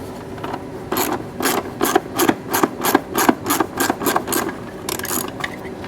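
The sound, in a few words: Torx bit removing bolts from a car cowl panel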